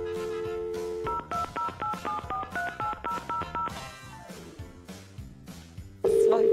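Telephone keypad tones dialing a number, about a dozen short evenly spaced beeps in quick succession, clear and close, followed by a falling sweep and a steady ringing tone at the end.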